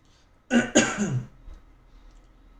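A couple of sharp, close coughs from a person with a cold, in quick succession, then near silence.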